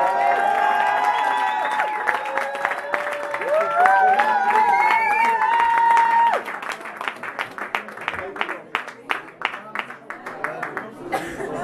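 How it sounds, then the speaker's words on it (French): Audience applause welcoming the performer Moussa on stage: music plays at first, then dense clapping builds and continues steadily, fairly close and loud, with some cheering mixed in. "on accueille sous vos applaudissements Moussa"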